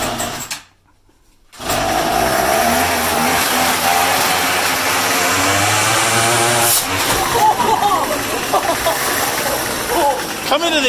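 A string trimmer fitted with a saw blade revs up loudly beside a garage and bites into a piece of OSB, giving a steady high whine with rising engine pitch, after a brief silent gap at the start.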